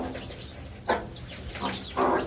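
Young chicks with their mother hen, soft clucks and peeps coming in a few short bursts, close by.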